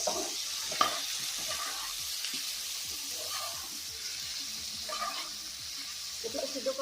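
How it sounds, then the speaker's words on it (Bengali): Potatoes stir-fried with chilli powder, chopped tomato and spices hiss in a steady, close sizzle, with soft scraping stirs now and then; no one speaks. "আলুগুলোর সাথে সব মশলাটা মিক্স করে আর একটু ভালো করে কষিয়ে নিচ্ছি।"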